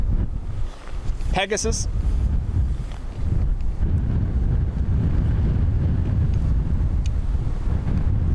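Strong gusty wind at Dublin Airport buffets the microphone in a deep, rumbling roar that surges and eases throughout, while a voice briefly speaks early on.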